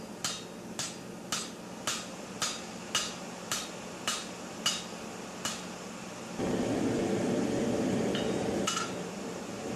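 A hammer strikes a wrought iron sword guard on an anvil, about ten evenly spaced bright metallic rings at close range, then a louder steady roar of a forge blower with a couple of lighter taps.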